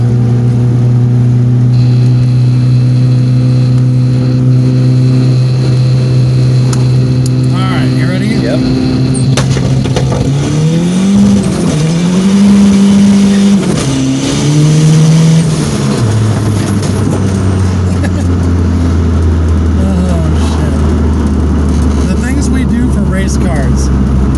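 A turbocharged Buick with an HX35 turbo accelerates hard, its engine note climbing through rising revs with shifts and dips, loud and close from inside the car, with people talking over it.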